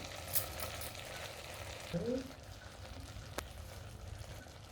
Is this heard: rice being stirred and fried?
yes